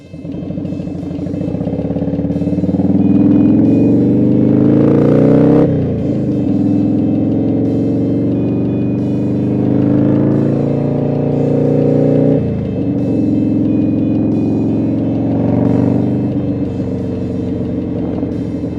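Steady road traffic heard from a vehicle on the move, with continuous engine and tire rumble, several swells as vehicles accelerate or pass nearby, and no talking.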